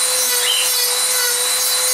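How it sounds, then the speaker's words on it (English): Close, continuous abrasive rubbing of sanding a bevel at an angle into the edge of a cheap foam board for a flying wing, a steady scratchy hiss without pauses or speech. "I'm sanding it at an angle here, just so that way the wind flows over it nicely"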